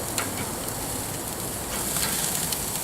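A bone-in ribeye steak being flipped on a Kamado Joe Classic grill gives a steady, close, fairly soft hiss of sizzling fat and smoke that runs unbroken throughout.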